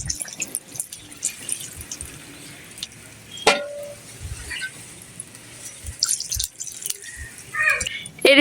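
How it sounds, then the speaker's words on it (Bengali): Broth poured into a village-style pangas fish and potato curry, splashing and dripping in irregular bursts, fairly close, with a few clinks. "পরিমাণ মতো ঝোল দিয়ে নিব।"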